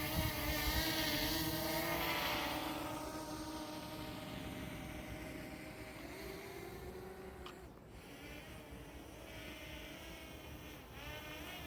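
LYZRC L900 quadcopter drone taking off and flying, a buzzing, insect-like whine of rotors with shifting pitch that fades somewhat as it moves away, faint and continuous.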